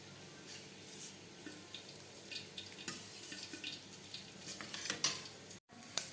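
Dried red chillies sizzle in hot oil in a covered pan, a steady close hiss with faint crackles and a few sharp metallic clinks near the end.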